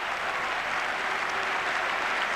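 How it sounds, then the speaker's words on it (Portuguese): A stadium crowd applauds the departing FC Porto goalkeeper during a 2003 Porto versus Barcelona match, a continuous dense roar of clapping that holds at steady loudness throughout. "Muito aplaudido o Vítor Bahia a sair, o guarda-redes do Futebol Clube do Porto."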